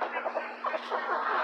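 Chickens clucking and fussing inside a cage as larger birds try to push their way in, a steady overlapping run of short clucks close by with no talk.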